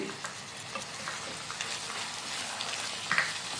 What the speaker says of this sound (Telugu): ఇలా ఫ్రై అవుతున్నప్పుడే కొంచెం కరివేపాకు కొద్దిగా కొత్తిమీర వేసి ఫ్రై చేసుకోవాలి